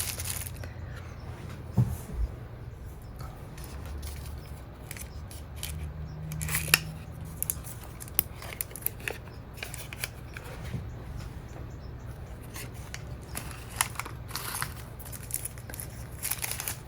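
Rubber stamps unwrapped from their packaging: close crinkling and rustling of plastic with a few sharp snips and clicks scattered across a quiet room, no voices.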